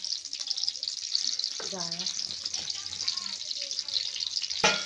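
Garlic sizzles in hot oil in a grandmother's village kitchen, a faint steady hiss with a voice talking over it.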